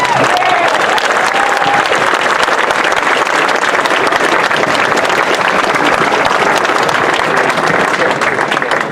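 Steady, dense applause from a crowd at a community rally in Wooster, Ohio, loud and sustained throughout with no break or voices standing out.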